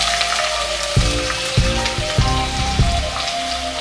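Onions sizzle in oil left over from frying tilapia, a dense, even crackle with several soft clunks and scrapes from stirring spaced about half a second apart.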